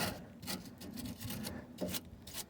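Brush scrubbing a fluid-coated bolt beside a leaking rear shock absorber on a Ford Fiesta MK6, a quiet close rasping in several quick back-and-forth strokes.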